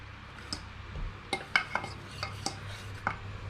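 Egg bajji batter is stirred in a bowl, with soft mixing noise punctuated by a scattered series of light clinks and taps against the vessel.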